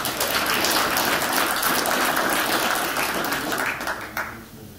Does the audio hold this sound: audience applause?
yes